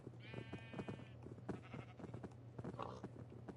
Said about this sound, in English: For the protection of the sheep.